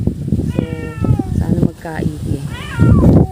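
A cat meows repeatedly in rising, drawn-out cries in a home backyard garden with banana and chili plants, the calls overlapping a person talking nearby.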